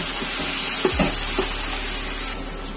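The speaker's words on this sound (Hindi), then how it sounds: "सबको 1 से 2 मिनट के लिए फ्राई कर लेंगे।" Onion and tomato with a little tamarind pulp fry in a pan on an induction cooktop for a south Indian chutney, giving a steady, close hiss with a few soft stirring scrapes.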